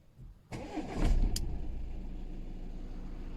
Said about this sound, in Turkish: Bir çalıştırma bakalım arabamızı.